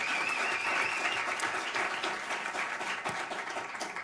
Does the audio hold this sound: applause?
yes